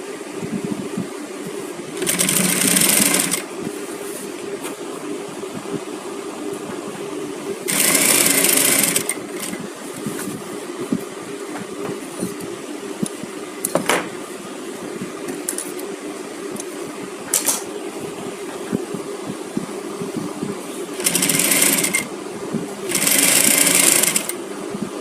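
Sewing machine stitching a seam, several short loud bursts of fast, whirring needle motor separated by quieter pauses with handling noises, close to the microphone.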